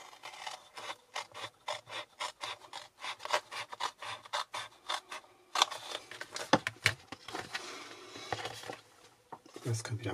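Paper is cut out with scissors in a quick run of short snips and rubbing rasps, close up, with faint speech intermittently underneath.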